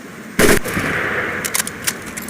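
An M1919A4 .30 caliber machine gun fires in Medal of Honor Pacific Assault, a loud opening blast followed by scattered sharp reports over a lingering hiss.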